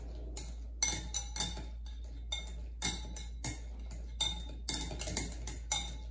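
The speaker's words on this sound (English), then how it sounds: "Then we're going to mash them up. I've got a potato masher here." Frozen bananas are mashed with a potato masher in a kitchen bowl, giving a series of sharp clinking, tapping strokes at an irregular pace, close and fairly clear, with no talking.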